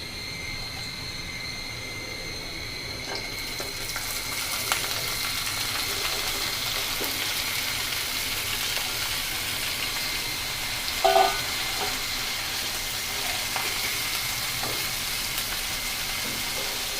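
Water lily stems hit a pan of browned frying onions, and a steady close sizzle swells a few seconds in, carrying faint stirring scrapes and a brief clatter near the end, with no one speaking.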